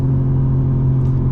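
Engine of a 2024 BMW M4 Competition xDrive G82 heard from inside the cabin with the windows up, a steady low drone and rumble at cruising load, with no talking.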